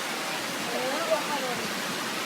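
Than Thong waterfall gives a steady, broad rush of falling water, loud and continuous throughout without clear breaks.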